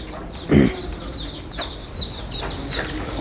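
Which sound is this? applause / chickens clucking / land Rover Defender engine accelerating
chickens clucking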